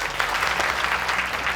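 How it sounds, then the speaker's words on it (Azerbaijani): Audience applause fills the space in a steady, dense patter of many hands clapping at moderate loudness, with no talking over it. "Gəlin alqışlayaq."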